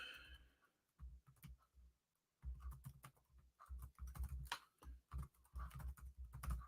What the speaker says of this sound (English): Let me type that up real quick here.